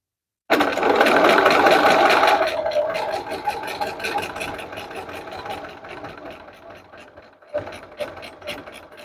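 A sewing machine stitches along a curved seam in fabric, starting as a loud, steady whir and then slowing into a quicker rhythmic chatter of individual stitches, close by, with a short pause and a few final stitches.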